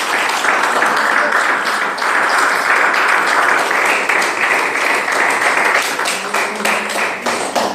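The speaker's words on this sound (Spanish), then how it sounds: "Denle un aplauso al Señor" A church congregation claps for the Lord, a dense, sustained applause with crisp individual claps standing out, loud and continuous throughout.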